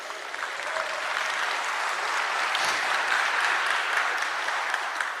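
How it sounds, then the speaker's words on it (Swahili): A church congregation at a youth-led service claps in sustained, dense applause. The sound is loud and even throughout and stands on its own, with no speech over it. "Siupigie huyu Yesu makofi mazuri."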